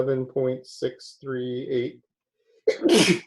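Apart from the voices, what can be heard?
sneeze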